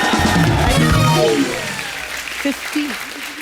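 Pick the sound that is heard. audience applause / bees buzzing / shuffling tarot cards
audience applause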